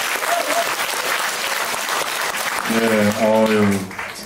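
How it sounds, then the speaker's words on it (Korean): A talk-concert audience in Mapo applauds in a dense, steady wash of clapping; near the end a speaking voice rises over the tail of the applause. "다시 한번 박수 부탁드립니다."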